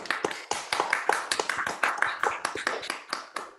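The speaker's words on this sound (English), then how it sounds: "Let's give them all another round of applause." A small audience at a salon concert applauds the performers with a round of light, scattered hand claps, sparse and distinct rather than dense, heard close and without talk.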